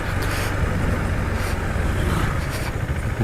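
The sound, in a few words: KTM Duke motorcycle accelerating in gear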